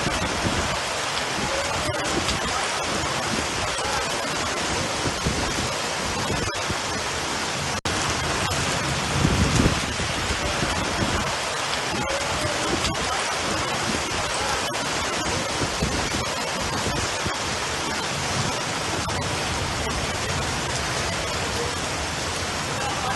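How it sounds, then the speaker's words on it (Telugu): Steady heavy rain with hail falls across Hyderabad as a dense, continuous hiss that stays even and full throughout, with no voices over it. "హైదరాబాద్ లో వర్షం పడుతోంది."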